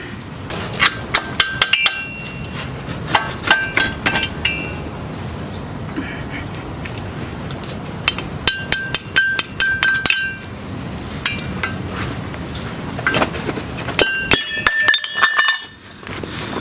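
Metallic clinks and taps ring out in irregular bursts as the small dust cover is pried off the front wheel hub of a Duramax truck, close up in a workshop with steady background noise.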